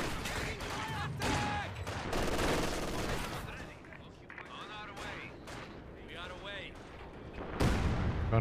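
Mortar fire in a video game, a steady stream of muffled booms and rattling shots sitting under voices talking throughout.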